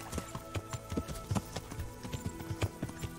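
Horse hooves clip-clopping in the medieval video game Kingdom Come: Deliverance, an uneven run of close, fairly soft thuds over a steady game ambience with no talk.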